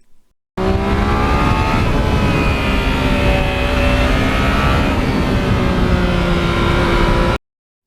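A 2020 Yamaha MT-09 motorcycle engine runs loud and close, a continuous rising and falling drone with harmonic pitch sweeps that starts abruptly and cuts off sharply, with no talking.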